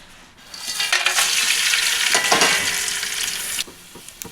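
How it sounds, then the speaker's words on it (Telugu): Whole biryani spices frying in hot oil, a loud, steady broadband sizzle that flares up after a quiet start, with a brief burst of stirring and spattering in the middle before it drops away near the end. "ఆయిల్ బాగా హీట్ అయిన తర్వాత బిర్యానీ సామాను వేసుకోండి."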